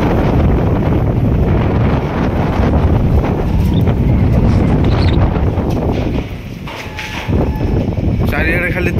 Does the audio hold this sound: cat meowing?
no